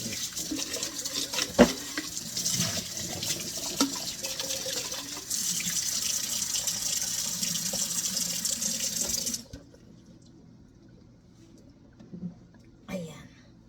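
A juice container washed under a running kitchen tap: a steady, bright splashing water stream with clattering knocks, cut off abruptly near the end, followed by a few quieter handling clunks.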